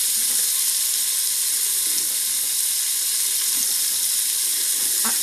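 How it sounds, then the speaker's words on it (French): Meatballs browning in a pan and crumbling apart hiss with a continuous sizzle as they are flipped, with a few soft scraping knocks near the end. "je suis en train de retourner mes boulettes qui sont en train de se déconstruire"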